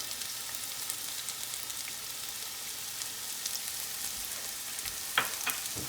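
Garlic sizzles steadily in a hot pan alongside shrimp and zucchini, a continuous close frying hiss with a few sharper crackles near the end and no talking.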